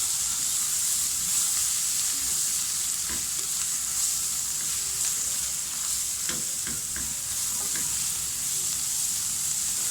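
Spiced chickpea dal and egg curry masala frying in a pan with steady sizzle and intermittent stirring scrapes, close and continuous, no talk.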